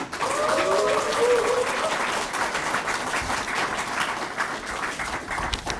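An audience applauds at a press conference for a Yongin mayoral candidate, sustained, dense clapping from many people that fills the whole stretch at moderate loudness.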